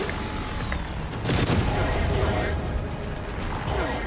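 Sentry cannons fire in the vehicle-building video game Trailmakers, a dense, rumbling barrage of shots with mechanical clatter that swells slightly partway through, while someone talks over it.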